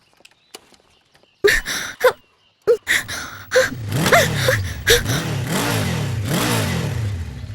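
An old, worn-out car engine cranks in several sputtering bursts, catches, and then revs in repeated rising and falling surges, loud and close.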